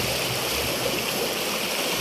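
A river stream flows in a steady, full rush of water close by, with no talk over it.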